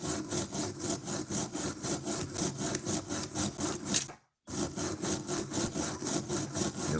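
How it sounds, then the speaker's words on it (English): A wire brush scrubs back and forth over metal while a hot rod's bearings are being cleaned, giving a steady rhythmic rasping of about two strokes per second, close and alone, with one brief pause partway through. "So we'll rub on it with the wire brush."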